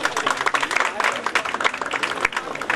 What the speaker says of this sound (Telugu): అందరూ కూడా ఒక్కసారి చప్పట్లు కొట్టవలసిందిగా కోరుతాం